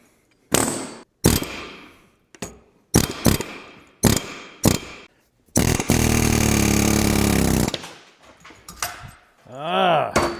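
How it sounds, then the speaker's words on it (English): An air hammer pounding on a part clamped in a vise, loud harsh bursts of rapid hammering separated by pauses, with one long sustained run near the end. "throw this in the vise and go at it with an air hammer"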